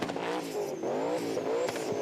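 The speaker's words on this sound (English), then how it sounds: "It's a twin-turbo 427 LS engine, making around about 900 horsepower at the tyres." Twin-turbo 427 LS V8 race car making about 900 horsepower, revving hard with loud, rising engine pulls that bounce off the rev limiter, close by and with no voices.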